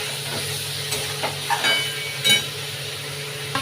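Water poured into a frying ridge gourd, potato and fish curry sets off a steady steam hiss with faint sizzling. It is close and continuous, with a few small clinks from the pan.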